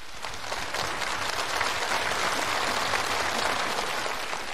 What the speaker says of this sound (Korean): 진정이 담긴 박수를 보내줍시다